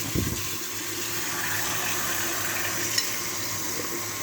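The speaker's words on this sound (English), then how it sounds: "you take your bowl and you want to turn on your faucet" Water runs from a kitchen faucet into a bowl as a soft, steady hiss and splash, quiet and unbroken, with one small clink near the end.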